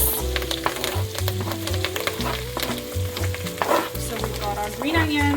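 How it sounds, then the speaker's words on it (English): Chopped food sizzles steadily in a hot frying pan while rigatoni with mushroom and shrimp is being cooked, a continuous close frying crackle with faint stirring scrapes and no talking. "So it's nice and sizzling."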